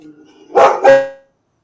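A dog barks twice in quick succession, close and loud, with a faint hum before the barks and quiet after them.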